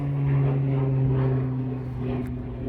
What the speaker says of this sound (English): Listen to that airplane.